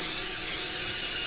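A spray can hisses steadily in a Baldi vs Granny animation, a continuous bright airy rush held for the whole stretch with no voices.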